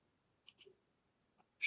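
A computer mouse clicks a few times in quick, sharp, close taps, with a louder click at the end and near silence in between.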